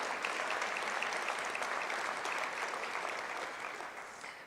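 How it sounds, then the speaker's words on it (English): Audience applause filling a hall during a Harris County State of the County speech, a dense, steady wash of clapping at moderate distance that slowly fades toward the end. "I do think that deserves a round of applause."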